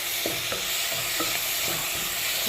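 Four chopped tomatoes hitting a hot pan of chicken masala, a loud dense sizzle filling the clip with faint spatula taps through it.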